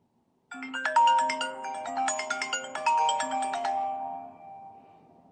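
An iPhone X ringtone plays a bright, bouncy chiming melody for several seconds, loud and close, then fades out at the end.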